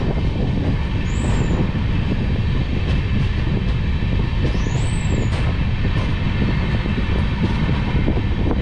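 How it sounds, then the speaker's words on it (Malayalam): Netravati Express train pulling out of Panvel station, a steady loud rumble of rolling rail wagons filling the whole clip, with a couple of brief high squeals from wheels or brakes. "ആദ്യം ഇവിടെ നിന്ന് തന്നെ വണ്ടി എടുത്തു കേട്ടോ"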